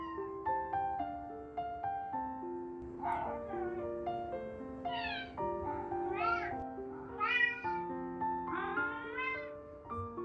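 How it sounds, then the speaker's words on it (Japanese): A rescued former stray cat, once badly injured and now a house cat, gives a string of rising, drawn-out meows at close range, repeated every second or so over a steady tonal background. "ひたすら猫語で話しかけコミュニケーションを図っているようだ"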